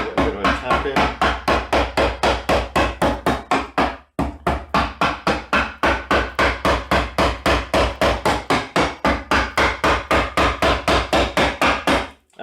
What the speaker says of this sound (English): use the hammer again. So good, the hammer. Get a bit of a tap in.